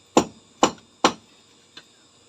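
A hammer strikes three times in quick even succession, loud and close, followed by a fainter fourth tap.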